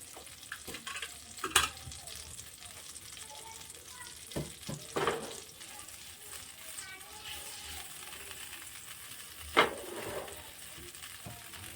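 Butter and oil in a pan over a very low flame being stirred, a faint soft sizzle broken by a few sharp utensil clinks against the pan as it is mixed, while preparing paneer makhni.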